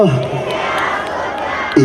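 A church congregation shouting praise to Jesus together, a loud sustained crowd roar that fills the hall, with a single voice rising briefly at the start and end.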